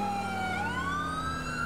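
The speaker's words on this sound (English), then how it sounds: "I'm using the game sirens so you can actually move" A police siren in the video game GTA IV with the LCPDFR mod wails steadily and loudly, its pitch dipping and then rising again in a smooth sweep, alone with no talk.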